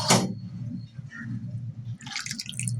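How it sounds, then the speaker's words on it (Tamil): Water is poured into a cooking pot of simmering chayote (chow chow) and beans broth, a steady splashing, trickling stream heard close by, with a brief clatter at the start and bubbling toward the end. "இன்னும் கொஞ்சம் தண்ணி விடலாம்,"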